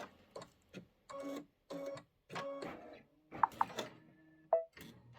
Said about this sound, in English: So I'm just going to let it stitch out